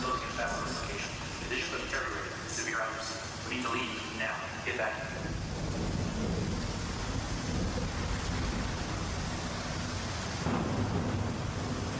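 Rumbling thunder and steady rain from a storm in the Star Citizen game, a broad continuous roar with a swell near the end, under people talking over it.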